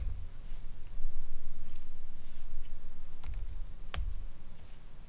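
Someone types login credentials on a computer keyboard to sign in to a Linux-based development board, producing a quiet run of soft key clicks with a couple of sharper taps near the end.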